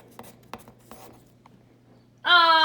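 A pencil scratches across paper in a few short, faint strokes, followed near the end by a loud, sustained harmonic tone that drowns it out.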